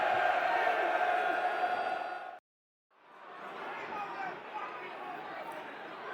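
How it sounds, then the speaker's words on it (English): Crowd noise at a Millwall vs Bristol City football match, a dense roar of fans that cuts out briefly and swells back, heard from the stands. "You might have detected that from some of the reactions in the crowd"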